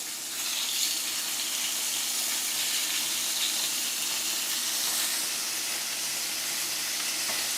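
Meat, skin side down, sizzling in a hot pan, giving a steady broadband hiss that holds evenly throughout with no talk over it.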